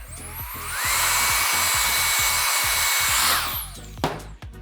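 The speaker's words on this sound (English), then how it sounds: "Blow dry that dimension down" A hair dryer blows on hair in a salon during blonde hair colouring, a loud steady whoosh that ramps up, holds for a few seconds and cuts off, with music running underneath.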